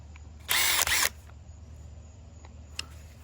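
A DeWalt power tool used for a Husqvarna YTH-21K46 riding mower deck rebuild gives one short loud whirring burst of about half a second, followed by faint clicks and handling noise.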